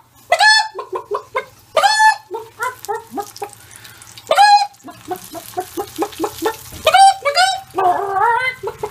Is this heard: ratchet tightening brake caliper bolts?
no